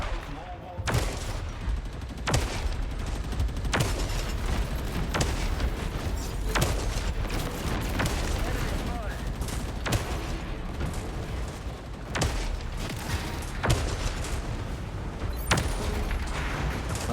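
Rapid gunfire from a weapon in the video game Brawl, a dense run of sharp, punchy shots repeating steadily for about seventeen seconds at close range, with a player's voice talking over parts of it.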